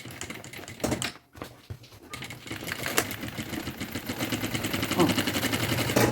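A sewing machine runs in a steady, rapid rattle as it stitches closed the side of a pink wheeled suitcase, starting after a brief pause and fabric handling and growing slightly louder toward the end.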